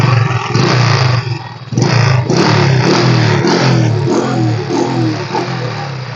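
A used motorcycle engine in good condition runs close and loud, revving in several surges with brief dips in between, producing a rough, throaty roar. There is no speech.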